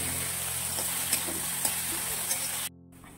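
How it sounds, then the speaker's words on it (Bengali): Onions with a pinch of salt frying in a pan, a steady bright sizzle with a few light stirring taps, cutting off sharply near the end. "পেঁয়াজটাকে একটু ভালো করে ভেজে নেবো, যতক্ষণে পেঁয়াজটা নরম হচ্ছে ততক্ষণ।"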